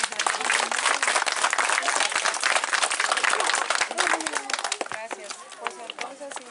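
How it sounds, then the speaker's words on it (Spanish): Loud crowd applause at a gathering honoring a teacher, dense clapping that fades toward the end as voices and scattered claps take over. "Un aplauso para la maestra."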